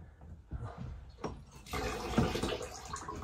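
Rainwater from a storage tank runs from a tap at a small cabin with no running water, a close splashing, filling stream that starts faintly, then swells and keeps pouring steadily.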